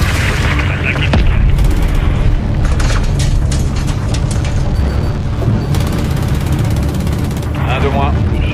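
Loud explosion from a missile shot down in an action film, a heavy boom set within a dense, continuous battle mix of gunfire and rumbling blasts, with a voice talking over it.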